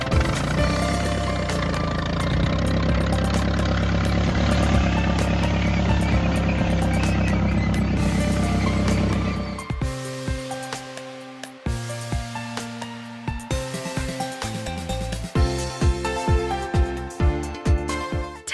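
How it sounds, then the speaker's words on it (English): A tractor pulling a baler runs its engine with a loud, continuous droning hum for about nine seconds. Pulsing music then follows. "Tractor with baler."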